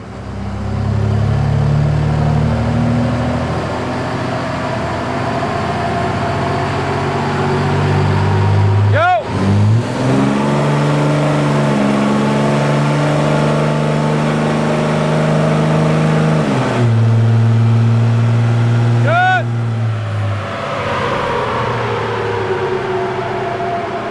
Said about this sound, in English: we're going to do a little bit of dyno testing and see what it puts out